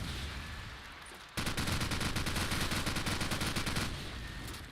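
Submachine gun fire in Call of Duty 4 Promod, a match played at a LAN event: after a quieter stretch, a loud sustained rapid burst of automatic shots rattles for about two and a half seconds and then tapers off.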